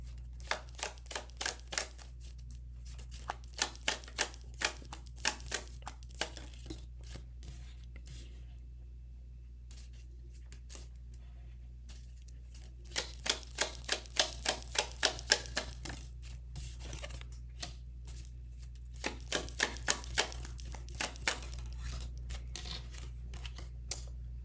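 Tarot cards riffled and shuffled in bursts of rapid crisp flicks, with a quiet pause in the middle, over a steady low hum.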